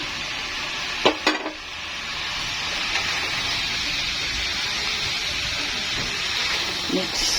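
Chayote sautéing in a pan gives a bright, steady sizzle, with a couple of sharp clatters of stirring near the start and a voice briefly audible over the frying.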